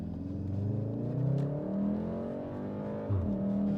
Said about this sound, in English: we're gonna get a little bit of acceleration here, see what she feels like.